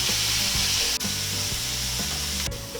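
Chopped garlic sizzling steadily in hot oil in a pan for a beef stew with shiitake mushrooms, a continuous close hiss with a couple of faint knocks and no voices.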